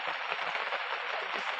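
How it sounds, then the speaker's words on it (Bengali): Heavy rain falling outdoors during cooking, a dense, steady broadband hiss and patter, close and loud, continuous without a break. "প্রচুর বৃষ্টি হচ্ছে বন্ধুরা"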